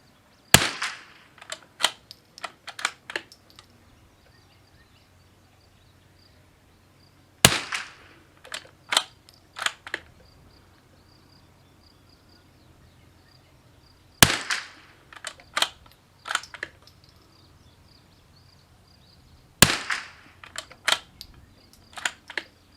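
CZ455 Varmint bolt-action rifle fired outdoors in four spaced volleys, each a sharp loud crack followed by several quicker shots and clicks, with quiet pauses between bursts.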